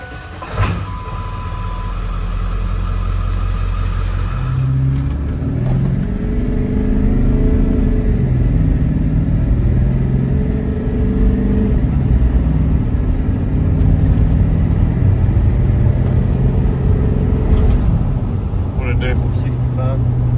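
A Ford Excursion with a 7.3 diesel engine cranks and starts, then settles into a steady, loud diesel idle with slight revving. A voice speaks over the engine.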